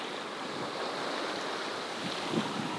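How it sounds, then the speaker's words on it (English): Sail on an all-electric sailboat crossing open sea in a light breeze, heard as a steady wash of wind and water with soft rustling and a faint flap near the end, no voices. "The sail is, I don't know, it's kind of flapping here and there"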